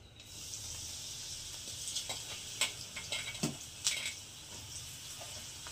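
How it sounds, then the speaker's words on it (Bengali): Food fries in a shallow layer of oil with a steady sizzle, broken by a few sharp crackles and light clicks, close and fairly quiet. "আমি অল্প তেলে ভাজছি, আপনারা চাইলে কিন্তু বেশি তেলেও ভাজতে পারেন।"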